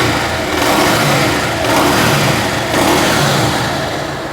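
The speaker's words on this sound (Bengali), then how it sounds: "এবার চেষ্টা করবো বাইকটা স্টার্ট করে আপনাদেরকে ইঞ্জিনের সাউন্ডটা শোনানোর" A Bajaj Pulsar UG3 motorcycle engine runs close by, a loud, steady rumble that swells with a few throttle blips, with no talking.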